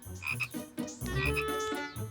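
Cartoon frogs croak in a quick, close burst of ribbiting calls that rise and fall, filling the short clip alone with no talk.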